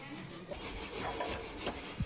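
A dirty household drum is scrubbed by hand during cleaning, giving a faint, steady rubbing and scraping with a soft rhythmic back-and-forth texture, close by and without talk.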